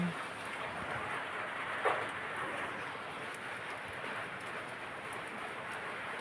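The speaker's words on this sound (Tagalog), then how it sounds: "Naririnig niyo ba yon Yung ano ng ulan, patak ng ulan." Rain falling outside a home, a steady soft hiss of drops with one brief louder tap partway through, with no talking.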